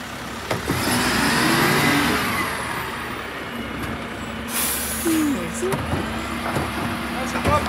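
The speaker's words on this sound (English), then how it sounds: "there's a car coming." A car approaches along a Bournemouth residential street during a bin-lorry collection, its engine rising over the idling truck and a hiss of air brakes, while men chat nearby.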